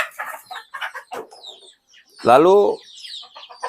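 Young day-old chicks in a coop cheep and peep in short high calls, with one louder chirping burst standing out near the middle and a voice heard briefly.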